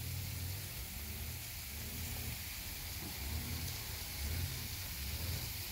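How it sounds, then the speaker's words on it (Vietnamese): Artificial rain sprinklers spray water over a hillside fruit orchard of orange, mandarin and apple trees, giving a steady, even hiss like rainfall with low rumbling underneath, close and continuous throughout. "Đây đang mưa nhân tạo rất là mát vườn luôn."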